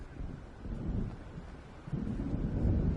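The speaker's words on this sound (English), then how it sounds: "It seems there's a storm coming." A storm rolls in over the lake in Alan Wake: a low, steady rumble of wind and distant thunder that swells louder toward the end, with no voices.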